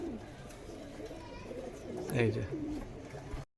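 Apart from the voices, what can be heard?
pigeons cooing at a market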